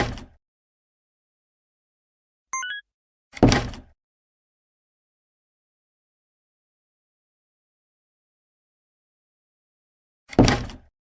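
A door opens with short, separate thunks and a brief electronic chirp in the video game Cosmic Corsair, each burst set apart by long silences.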